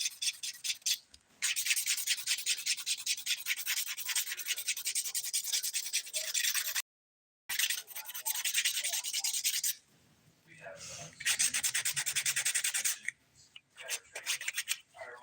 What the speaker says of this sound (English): So we got to smooth all that out using a 180 grit file to do that.